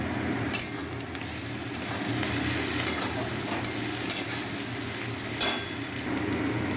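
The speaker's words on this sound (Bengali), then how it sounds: "পেঁয়াজগুলো ভাজি।" Salted onions fry in a pan with a steady close sizzle, broken by a few sharp spatters and clicks of stirring, no voices.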